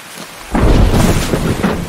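Thunder in a video game, a loud sudden rumbling crash that swells in and keeps roaring with a rain-like hiss, close and without talking.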